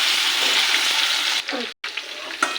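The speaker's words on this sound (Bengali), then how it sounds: "আলুটাকে একটু ভেজে নিয়েছি" Potatoes frying in hot oil tempered with panch phoron, a loud steady sizzle that briefly drops out, then resumes more quietly.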